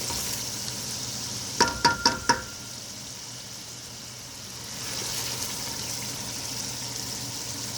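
Chicken sears in a pot over high flame for yakhni pulao, a steady close sizzle with a quick burst of four sharp knocks from a spoon against the pot, then continuous frying hiss.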